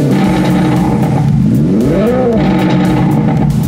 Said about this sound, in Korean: 이그니션 사운드는 리얼한 고성능 엔진 사운드로 당사의 벨로스터 N, 아반떼 N 사운드를 계승하고 있습니다.